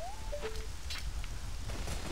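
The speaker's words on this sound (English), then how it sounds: "so the rain will not go away until you defeat the Shadow Temple boss" Steady rain falling in the video game Zelda: Ocarina of Time, a constant wash of hiss with a few short synthetic tones near the start and no talking.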